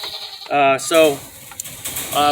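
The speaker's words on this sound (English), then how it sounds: "here's one of our baby goats from that, named Quail." A baby goat on a homestead farm bleats twice in clear, close, wavering cries, with a fainter third bleat beginning at the end.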